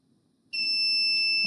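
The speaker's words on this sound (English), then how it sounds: "So if it detects body movement, then these things will activate the buzzer." A buzzer wired to a Raspberry Pi running a Codesys PLC, switched on by a motion sensor, sounds after a quiet half second as a steady, piercing electronic tone that holds loud to the end.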